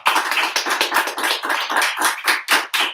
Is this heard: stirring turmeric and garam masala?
no